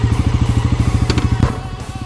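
A Bajaj NS400Z motorcycle engine idles with a steady, fast pulsing beat, close and loud, with a brief clatter partway through and no talking.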